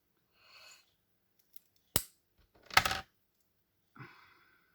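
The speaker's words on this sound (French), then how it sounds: "J'ai peur de les abîmer à chaque fois, mes ciseaux." Metal scissors snipping through small pieces of scrap metal for a flower-making craft, three or four sharp, separate clicks and crunching cuts, close and crisp against a quiet background.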